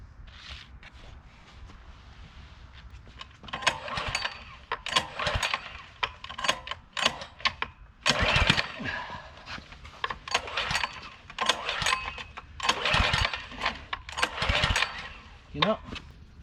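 A pressure washer engine is pulled several times, giving bursts of ragged mechanical sputter and rattling at close range, with pauses between them and a voice talking intermittently.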